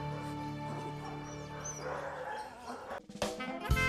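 A 4-month-old crossbreed puppy named Sebastian gives soft yips and whimpering barks over steady background music, with a louder burst of sharp bark-like sounds near the end.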